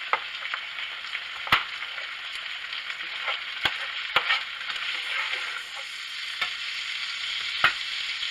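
Cut-up onions frying in a pan for shrimp Alfredo, a steady close sizzle broken by occasional sharp clicks of stirring, with no talking.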